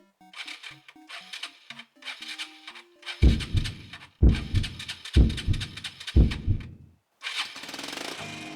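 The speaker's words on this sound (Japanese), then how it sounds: "シリンダーに残った廃液を排出するため、車体を起こしながらセルを回してます。" Yamaha Majesty 125 scooter with carbon buildup cranks on its electric starter in several repeated bursts of whirring and chugging separated by pauses, then a final attempt sounds like it catches, heard close and fairly loud.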